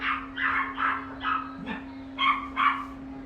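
Dogs bark repeatedly in a quick series of about seven yelps, fairly faint and at a distance, over a steady electrical hum.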